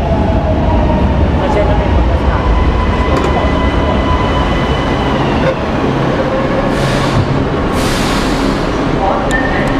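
Metro train standing at a platform on the Milan ATM underground, a steady loud rumble and hum of the station and train with brief hissing bursts, voices faintly under the noise.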